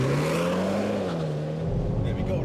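A 2022 BMW 135i F40 with xDrive accelerating hard on a 0-60 run, its engine note rising steadily and droning loudly inside the cabin, with a voice faintly under it.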